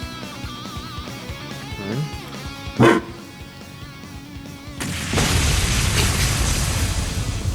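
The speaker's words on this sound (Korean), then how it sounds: "로봇 멍멍이가 왔네?" A robot dog barks in a Trails role-playing video game, a few short electronic barks over background game music, followed by a louder rumbling burst of action.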